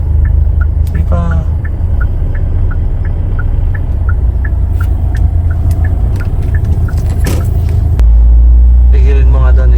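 A car engine rumbles steadily under a low drone while the car is driven during a first driving lesson, loud and continuous, with people talking over it.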